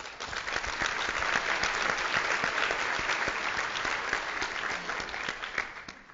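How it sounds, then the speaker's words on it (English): Steady, dense applause from a conference audience at the USENIX Security '17 opening session, a full room clapping evenly and loudly throughout with no voices over it. "let's please give them a round of applause"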